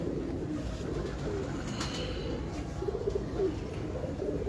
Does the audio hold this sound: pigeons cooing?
yes